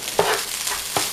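Vegetable fried rice with egg being stirred in a hot pan, two short spatula scrapes over a soft, steady sizzle.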